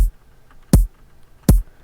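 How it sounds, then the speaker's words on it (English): A synthesized kick drum made in Bitwig for glitch music, struck three times at a steady pace, each a punchy low thump with a bright click on the attack, heard alone. "And then I made a kick."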